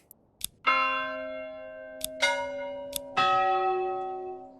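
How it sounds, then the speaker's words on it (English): Church bell in the Manor Lords medieval game tolling three times, each strike ringing with long sustained overtones that overlap the next, clear and alone with no talk. "I can change the bell sound to you"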